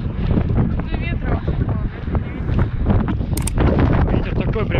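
Strong, icy wind buffets the microphone on a cold day at about minus 8, with continuous loud low rumbling gusts and a person talking over it.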